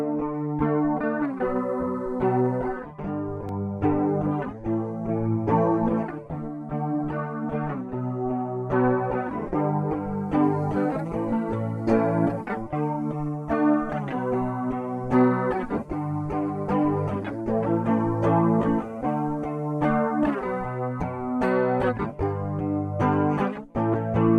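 Layered synth chords through the Ujam Finisher Retro 1970 ensemble mode, with a lush, shimmering chorus effect, a wide warbling vintage tone playing continuously with a steady rhythmic pulse.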